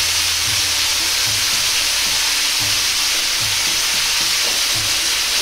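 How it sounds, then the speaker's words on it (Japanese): Bamboo shoots simmer hard in oyster sauce and water over high heat, a steady loud bubbling sizzle with soft repeated stirring scrapes throughout, no voices. "そのまま強火で煮詰めていきます。"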